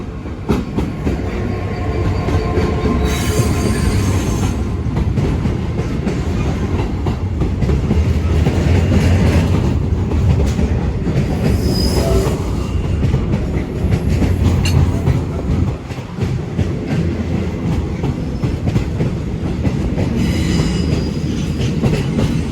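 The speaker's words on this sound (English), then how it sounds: "here is a DB66 on a freight train" A DB class 66 locomotive hauling a long freight train past, continuous rumble with clickety-clack of wagon wheels and occasional squeals, loud and close throughout.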